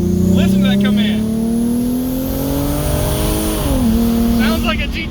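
A Ford Mustang S550 with a 3.7 V6 and an AMR budget low-mount turbo kit pulls hard. The loud engine note climbs steadily through the gear, then drops briefly at a shift and keeps droning close by.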